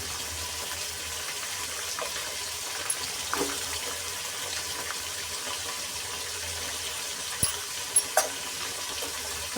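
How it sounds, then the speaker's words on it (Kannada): Onions and curry leaves frying in a pan for traditional chitranna, a steady soft sizzle across the whole stretch with a few faint clinks of stirring, no talk. "ಎಲ್ಲ ಚೆನ್ನಾಗಿ ಫ್ರೈ ಆಗಬೇಕು."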